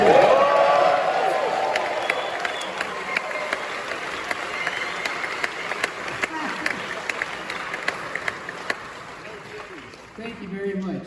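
A theatre audience at a concert and conversation event claps and cheers loudly at first, the applause slowly fading over several seconds, with a voice briefly heard near the end.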